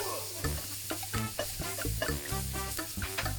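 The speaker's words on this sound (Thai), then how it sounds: "ผัดให้หอมใหญ่สุกค่ะ" Food sizzles and scrapes in a hot pan, a spatula clattering in a steady, busy rhythm as the onions are stirred, close and fairly loud.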